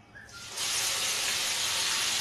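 Onions drop into hot oil in a pan and erupt into a loud, steady hissing sizzle that jumps up after a quiet start and holds strong and close to the end.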